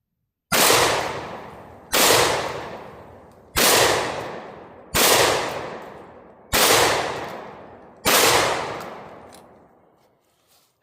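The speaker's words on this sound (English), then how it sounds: "So here goes 6 more shots." Six loud, evenly spaced blasts from a Mac 1014 shotgun firing 2 3/4 inch, 1 ounce rounds with 8 pellets, each sharp report trailing off over a second or so before the next.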